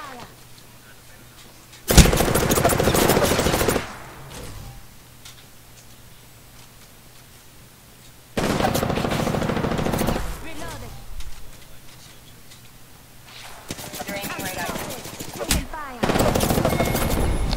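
Automatic weapon fire in the Apex Legends video game comes in several loud sustained bursts, each lasting about two seconds, separated by quieter gaps of game ambience.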